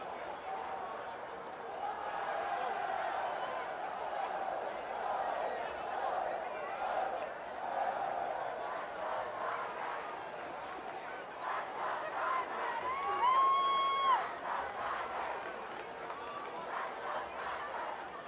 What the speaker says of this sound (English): Crowd's starting to get into it a little bit.